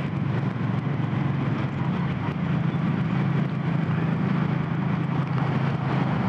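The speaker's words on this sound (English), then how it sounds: "And the engine's humming around really nicely." Steady low hum of a Suzuki M50 motorcycle engine while riding in fourth gear, continuous and even throughout with a constant rumbling drone and wind-like broadband noise, no talking.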